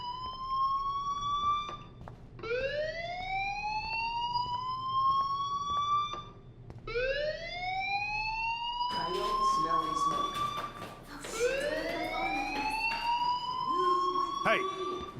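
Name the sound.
fire alarm ringing in video game Life Is Strange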